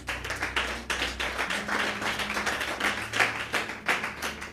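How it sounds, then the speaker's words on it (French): Church congregation applauding together during a French-language sermon, a steady wash of clapping that swells and dips throughout at moderate loudness, with a low hum underneath. "Acclamons le Seigneur Jésus."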